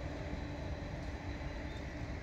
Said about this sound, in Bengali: ডাব্লিউএপি ফোর এই ইঞ্জিন দিয়ে যাচ্ছে একটি লোকাল ট্রেন